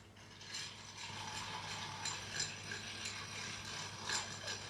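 Ice stirred in a cocktail mixing glass for a rye-and-whisky style drink, giving a steady rattling clink of cubes against glass for several seconds, close and moderately loud with no talk.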